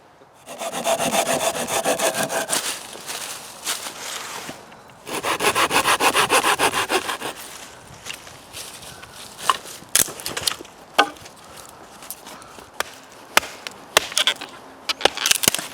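Firewood is hand-sawn at a bushcraft camp in November, two long bursts of steady rhythmic rasping strokes, close and loud, followed by scattered knocks and clunks as the cut wood is handled.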